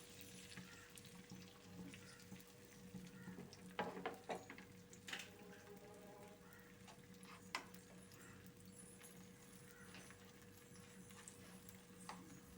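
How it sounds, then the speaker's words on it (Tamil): Beaten egg with salt sizzles faintly in a pan, a soft continuous frying hiss punctuated by a few light clicks and scrapes. "இந்த முட்டை அப்படியே வேகட்டுங்க."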